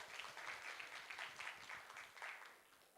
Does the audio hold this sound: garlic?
no